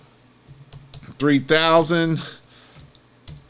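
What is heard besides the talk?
typing on a computer keyboard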